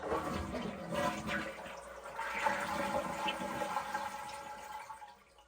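A Kohler Cimarron Revolution 360 toilet flushes during installation with a steady rushing, gurgling wash of water that runs for several seconds before tapering off at the end.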